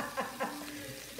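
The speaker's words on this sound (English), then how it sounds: "Now you can hear it sizzle, right?" Fish frying in a hot oiled pan for spicy citrus fish tacos, a steady crackling sizzle with two brief louder bursts of spatter near the start, close and moderately loud, with no talk over it.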